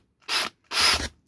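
A drill bit breaks through a pole section in two short, harsh rasping bursts, close by, separated by a brief silence.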